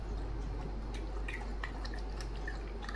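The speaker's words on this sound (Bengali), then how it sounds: "কার্তিক ঠাকুরের নকুলদানাও খেলো, জলও খাচ্ছে।" A Siberian husky laps water from a bowl at close range, a steady run of soft wet drips and squishy tongue splashes over a constant low hum, with no talking.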